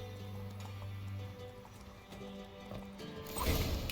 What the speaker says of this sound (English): Gotta calm the horses before they wake the guards.